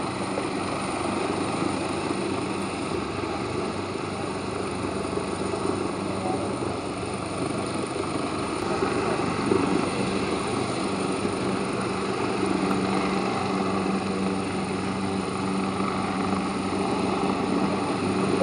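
An AW139 helicopter hovers during a military rescue demonstration at an army day display, its steady rotor and engine drone filling the air continuously, moderately loud and unchanging throughout.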